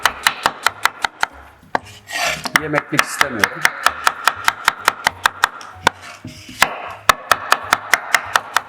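Rapid, steady knife chops julienning vegetables on a cutting board, dozens of sharp even strikes with brief pauses, a short spoken phrase and some rustling in between.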